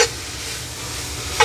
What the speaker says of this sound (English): now you can hear that sizzle in the bottom